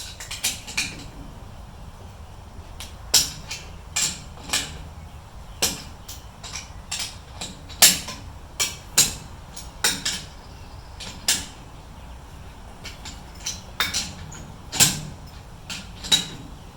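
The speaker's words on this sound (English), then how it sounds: "break the lug nuts loose." A series of sharp metallic clanks and knocks as a lug wrench breaks the lug nuts loose on a Mazda B2200 pickup wheel during rotor removal, irregular and close by with no talking.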